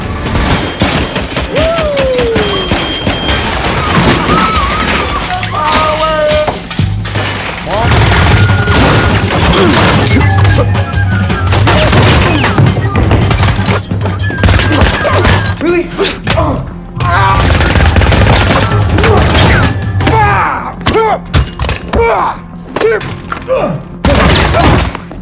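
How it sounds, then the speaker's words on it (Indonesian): Heavy gunfire from armed men in an action film, with dense thumps and bursts running almost continuously under shouting and dramatic score throughout. "Dengan tanpa basa-basi, mereka pun langsung menghujaninya dengan peluru."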